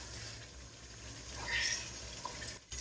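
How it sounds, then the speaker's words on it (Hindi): Water poured into a pot of aloo gosht, meat and potatoes already fried in oil, a faint short gushing pour that swells midway and trails off quietly. "अब हम इसमें तकरीबन 2 ग्लास के करीब पानी डालेंगे ताकि आलू अच्छे से गल जाए।"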